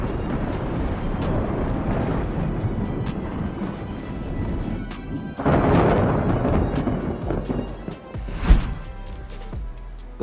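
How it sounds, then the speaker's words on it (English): Deep thunder rolls and cracks through a storm, a continuous heavy rumble with a louder sharp clap near the end, then a fading grumble. "Accompanied by deafening claps of thunder, lightning flashes across the dark sky."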